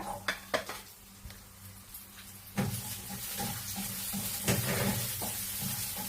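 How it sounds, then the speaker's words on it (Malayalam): Shallots with ginger and garlic sauté in a little oil, a soft steady sizzle under clinks of a spoon stirring against the pan and a few sharp knocks of utensils. "ഇപ്പൊ ഞാൻ ഒരു അല്പം എണ്ണ ഒഴിച്ചു, അതിലേക്ക് ശകലം ജിഞ്ചർ ഗാർലിക് ഇട്ട് കൊടുത്തു."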